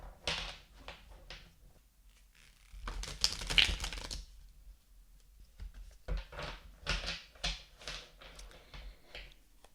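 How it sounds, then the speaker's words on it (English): Bursts of crisp, papery riffling and tapping come in quick clusters separated by short pauses, close to the listener, as tarot cards are shuffled. "So enjoy some shuffling"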